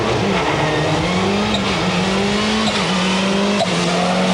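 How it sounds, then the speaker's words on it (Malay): A Mazda Familia GTX rally car races at the 1992 Rally of Malaysia, its engine droning loud and close with a steady, slightly wavering pitch while the tyres scrabble and skid over the surface. "Tony Sircom, pasangan dari New Zealand yang memandu kereta jenis Mazda Familia GTX."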